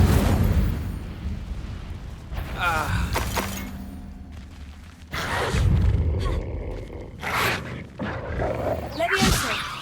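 Fire spells cast in Hogwarts Legacy burst as a series of loud roaring whooshes and crackling blasts separated by short gaps, with a voice calling out over them.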